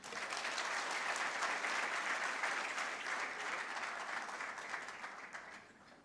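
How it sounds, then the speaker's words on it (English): Sustained applause from an audience at a graduation ceremony for a public service leadership cohort, dense and steady clapping throughout before thinning out near the end. "Let us give the two presidents class a more heartier clap."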